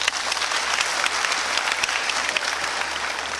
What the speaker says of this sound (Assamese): এটা জোৰকৈ হাত চাপৰি দিব